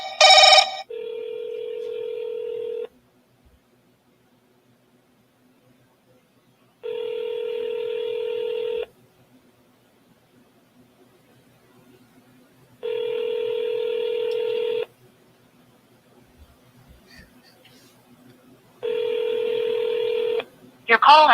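Keypad dialing on a telephone while calling a seller: a brief tone burst, then several long, evenly spaced ringback tones separated by silence, clear and close.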